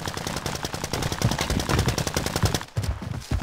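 Rapid automatic gunfire from a Plunder-mode shooter match, dense bursts of loud, close shots firing almost continuously with a brief gap near the end.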